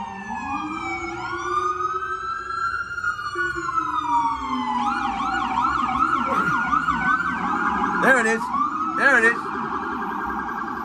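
An emergency vehicle siren wails through a New York City street, sweeping up and down in pitch before switching to a rapid yelp, loud and continuous over traffic noise.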